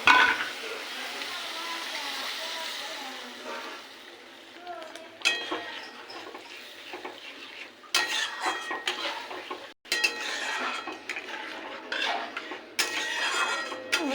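Water poured into frying masala for rui kalia, a hissing sizzle at first that quiets, then spoon stirring and metallic scraping against the pan in bursts.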